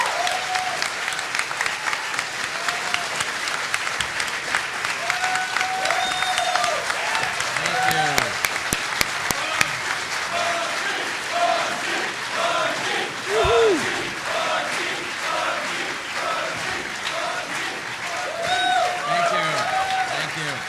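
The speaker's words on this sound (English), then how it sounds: "I would love for you guys to give a round of applause to Bungie here" A crowd gives sustained applause and cheering, with whoops and shouts rising through the clapping over about twenty seconds, while voices talk and call out on top of it.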